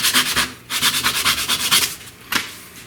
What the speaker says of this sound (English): like all the other dowels, a little chamfering so they go into the holes easier